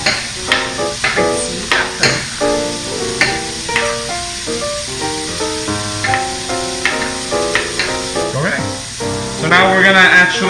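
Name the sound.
bacon sizzling and rendering fat in a pot, being stirred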